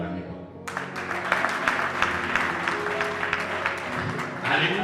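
An audience at a church youth gathering breaks into sustained, loud applause that starts abruptly and holds steady, mixed with scattered cheers from the crowd.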